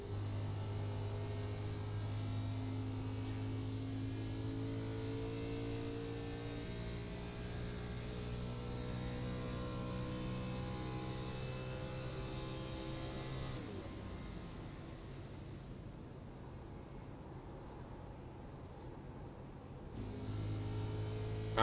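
A race car drones steadily through a racing video game at Pocono Raceway, its engine note holding level, then cutting out partway through as the driver shuts it off to save fuel, leaving a quieter background hum before the sound returns.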